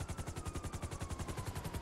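Rapid automatic gunfire in GTA V Online, a steady burst of evenly spaced shots running through the whole moment, loud and close with no talking over it.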